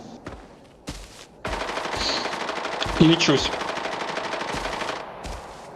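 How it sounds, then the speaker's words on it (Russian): Rapid bursts of automatic gunfire in a video game rattle continuously at mid distance, with brief spoken words near the start and occasional sharper electronic tones. "На зоне погрузки какая-то ядреная стрельба."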